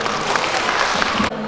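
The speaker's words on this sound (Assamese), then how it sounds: "আপোনালোকৰ পৰা এজাৰি জোৰদাৰ হাত চাপৰি" An audience claps steadily as a guest is welcomed onto a stage, a full, even burst of applause that cuts off abruptly near the end.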